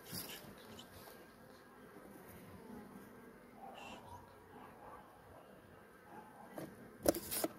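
Honey bees buzz low and steady at an October hive, a faint continuous drone that holds through the whole stretch, with a few brief louder knocks near the end.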